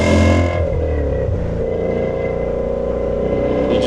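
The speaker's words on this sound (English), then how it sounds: "I would say this sounds pretty close to an Aston Martin V8 Vantage with this exhaust." 2000 BMW E39 M5 V8 revving loud and close through its exhaust, a deep sustained roar that holds steady, then rises slightly toward the end, with no talk.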